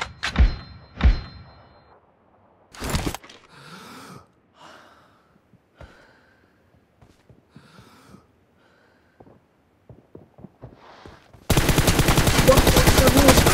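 M416 assault rifle fire in the PUBG video game: a few sharp, loud shots open the scene, then quieter scattered thuds and breaths follow, and a sustained roar of automatic fire ends it.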